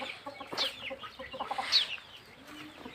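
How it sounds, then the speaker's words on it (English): Chickens and a large rooster on a Kenyan poultry farm cluck and squawk close by in irregular bursts, with softer background clucking between the louder calls. "This cock is weighing almost 3 kg."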